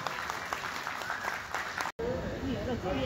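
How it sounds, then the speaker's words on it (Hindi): Audience applause at a magic show in a Bankura auditorium, a steady wash of clapping from a crowd that cuts off abruptly, followed by a voice speaking over lingering hall noise. "एक बार जोरदार तालियों से स्वागत हो जाए, जोरदार तालियों से।"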